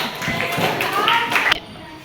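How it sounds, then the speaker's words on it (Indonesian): A classroom gives a short burst of applause for a student group, with several quick claps and taps mixed with children's voices, then a sudden cutoff. "berikan aplaus untuk kelompok 4"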